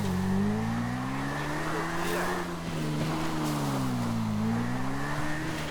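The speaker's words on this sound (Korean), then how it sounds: "오토바이 타고 올라왔어요" A motorcycle engine in the video game GTA 5 drones steadily as it climbs mountainous terrain, its pitch rising and dipping gently throughout.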